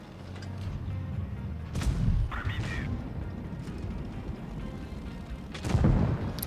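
Gunfire in a competitive video game tournament match: sharp bursts of shots crack out around two and six seconds over a steady, muffled background of game noise, fairly quiet overall.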